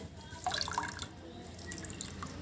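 Faint watery trickles and drips patter briefly as hot water is squeezed from a cloth while making paneer, a small splashy burst near the start followed by quieter dripping.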